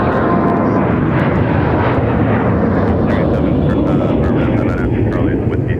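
A fixed-wing airliner roars down runway 30 right at Minneapolis–Saint Paul airport on takeoff, a loud continuous rumbling jet engine roar that fills the whole stretch while radio chatter runs underneath.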